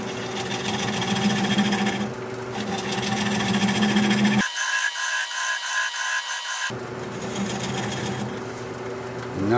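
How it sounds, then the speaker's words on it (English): A 3/8 inch swept-back bowl gouge shaves a spinning wood bowl on a lathe, giving a loud, steady rasping cut that breaks off for a couple of seconds of lighter whine before the cutting resumes. "Now I'm going to switch to a 3/8 inch swept-back bowl gouge so that I can get in there closer and just keep working it away."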